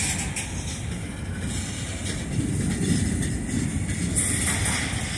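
A CSX freight train with flat cars carrying 20-foot containers rolls past, a steady broadband rumble with faint rail clatter throughout, loud and close, with no talking.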